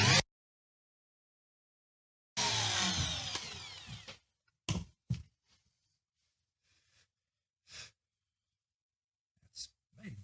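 A router cuts a pickup cavity along a template in a neck-through Telecaster guitar body, giving a short, loud, close whirring burst of about two seconds, followed by scattered brief knocks and bumps.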